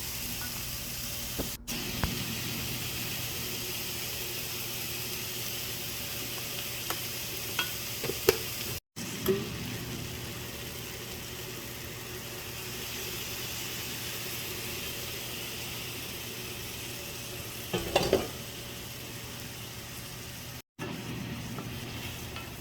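Bitter melon (ampalaya) stir-frying in a pan with egg, a steady close sizzle and hiss running throughout, broken by a few scraping stirs of the spatula and brief clatters, with no talking.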